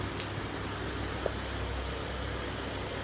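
Rain falls outdoors among greenery as a steady, dense hiss with light wind, an even wash of sound and occasional faint drips, with no voices.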